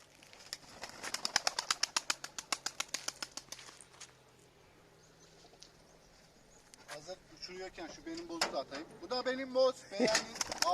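Rapid flurry of wing flaps close by for a couple of seconds as a pigeon is released, then quieter, followed by pigeon coos and scattered bird sounds with some voices.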